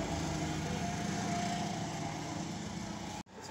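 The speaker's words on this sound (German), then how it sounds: "Die Kehrmaschine kommt schon." A street sweeper machine drives past, its steady engine drone loud and continuous, cutting off abruptly near the end.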